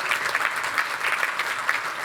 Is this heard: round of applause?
yes